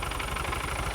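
A 1980s turbocharged car engine, left sitting in a barn for 33 years, idles with a steady, close, continuous rumble and slight roughness, alone with no talking.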